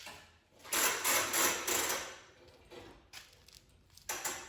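A DeWalt heavy duty impact wrench zips lug nuts off a 1999 Acura CL wheel, with loud close bursts of rattling hammering, a longer run followed by short quieter pulses and two more sharp bursts.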